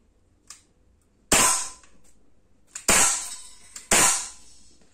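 Three sharp gas-powered shots from a Bersa Thunder 9 Pro CO2 4.5 mm airsoft pistol fired at a target about 8 metres away, each a crisp crack with a short hiss, spaced about a second apart, close and loud, preceded by a faint click.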